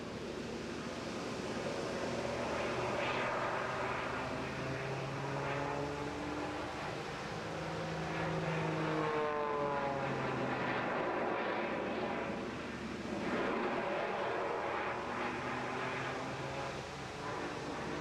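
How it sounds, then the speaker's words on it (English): Propeller aerobatic aircraft flying max-rate turns and upward spirals over the English Riviera Airshow, a steady broad engine drone with a shifting, sweeping pitch as it banks, continuous and fairly loud against wind-like background noise. "Max rate turns here using all that rear propellers. He spirals upwards, carving the fantastic shapes."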